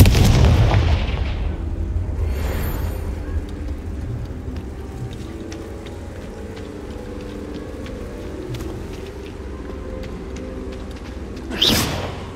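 Confringo fire spell exploding in the Hogwarts Legacy video game, a heavy booming blast at the start that fades into a low rumbling crackle, then a second sharp burst near the end; no talk heard.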